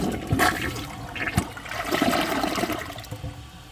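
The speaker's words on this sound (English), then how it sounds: "So let's give this a flush and see how it does on tests." A Project Source 1.28-gallon high-efficiency toilet flushes close by, a loud rushing, gurgling swirl of water draining steadily for several seconds.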